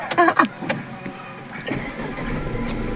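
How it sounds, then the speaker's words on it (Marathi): A car engine runs steadily, a low continuous rumble carrying on for the whole stretch, with a brief voice and a few knocks near the start. "चालू आहे गाडी"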